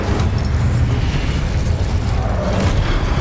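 In Hogwarts Legacy, a loud, roaring burst of the Incendio fire spell fills the space with a dense, continuous rumble that holds for a few seconds without pause.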